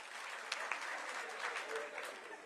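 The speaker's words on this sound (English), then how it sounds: "you can clap" An audience at a police human-capital address claps in a fairly distant, moderate burst of steady applause lasting a couple of seconds, with faint murmuring mixed in.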